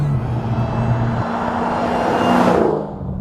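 A Dodge Challenger Hellcat's engine roars loudly and steadily as the car rolls on the throttle in third gear on the road, the pitch climbing and swelling near the end before easing off.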